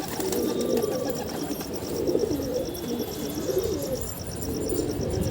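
A pigeon with a big tail and clipped wings, held in hand, coos low and steady through the whole stretch, with a faint repeating high chirp above it and no talk.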